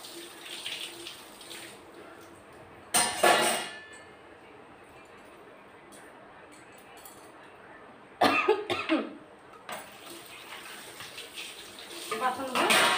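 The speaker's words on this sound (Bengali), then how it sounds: "বাসনগুলো আগে আমি ধুয়ে নিই।" Dishes are washed at a kitchen sink under a running tap, with gushes of water starting and stopping, clanks of utensils, and a cough amid quieter gaps.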